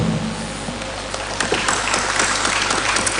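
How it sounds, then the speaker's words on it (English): Audience applause at a digital technology conference in Nigeria greets a keynote speaker, a steady wash of clapping with scattered sharper claps, fairly loud and continuous, with no talk over it. "Please applaud him."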